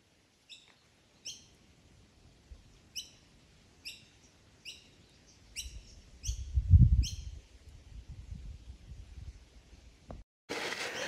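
Small birds chirping outdoors on a sunny day, a series of short, bright, evenly spaced tweets repeating at a steady pace, with a low rumble of handling noise partway through.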